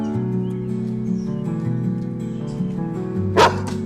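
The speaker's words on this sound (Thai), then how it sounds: "นี่ทำไมไม่ห้ามหมาคุณนายล่ะ มาเห่าหมาฉันได้ยังไง" A dog barks in a Thai short drama, short repeated barks over a steady tonal backdrop, with a sharper louder burst near the end.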